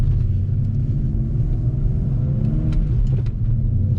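A BMW E46 climbing a snowy hill with its wheels slipping, heard as a steady low engine rumble and drone from close by with no talking.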